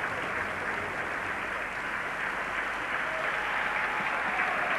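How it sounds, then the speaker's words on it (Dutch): A crowd of spectators at the 1988 Calgary Winter Olympics gives sustained, dense applause for a skater in the men's 10 km speed skating, a steady wash of clapping that holds for several seconds. "Weliswaar veel applaus krijgt nu."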